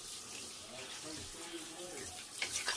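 Water pouring from a bath tap into a tub, a continuous close hiss and gush that swells slightly toward the end.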